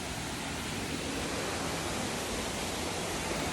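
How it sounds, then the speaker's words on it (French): A distant waterfall along a hiking trail produces a faint, even, continuous rush with no other sounds standing out. "Peut-être vous gardez ce que j'entends là, une cascade."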